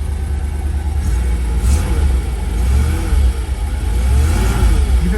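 Ice-cold car engine just fired up and running a little rich, revving loudly with a deep, rumbling low end that swells and dips through repeated throttle blips, close by with no talking.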